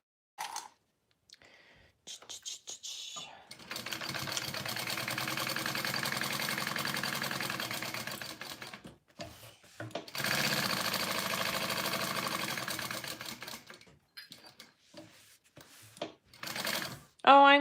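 A sewing machine basting fabric with pink bonded poly thread runs in two long, steady whirring bursts close by, separated by brief pauses, with a voice talking faintly before and after.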